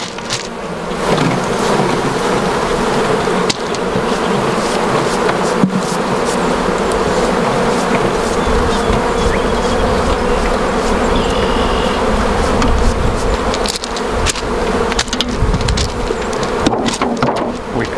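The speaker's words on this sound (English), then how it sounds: "We shake the bees off" Honey bees swarm around a hive being split as brood frames are shaken into a new box, a loud, steady droning buzz close by with occasional soft knocks and no voices.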